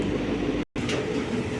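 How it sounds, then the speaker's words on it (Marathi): Inside a Vande Bharat express train starting to move toward Shirdi: a steady low rumble of the carriage with a very brief dropout partway through, continuous and fairly near, with no talking. "बघा आता ही ट्रेन आता सुरू झाली, आता शिर्डीला जाईल"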